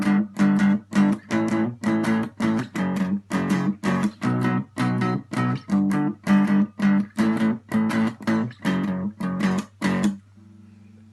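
Electric guitar chord pattern for a pop-punk song, played as steady, evenly spaced strums that are each cut short by muting. The strums repeat about twenty times, loud and close, with no talking.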